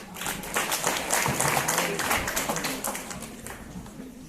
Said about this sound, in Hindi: पुरजोश तालियों के साथ इस्तकबाल करें।